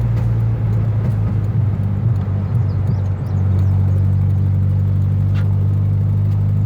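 Honda F20B engine in a car cruising along a road, a steady low drone with road rumble throughout, fairly loud and continuous with no talking.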